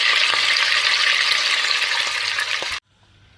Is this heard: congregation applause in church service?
no